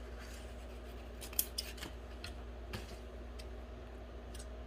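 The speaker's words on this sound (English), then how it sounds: "And this is wired ribbon. I'm going to cut a pretty good amount." Scissors snip through wired ribbon in a few crisp, close cuts over a faint steady background hum, with no talking.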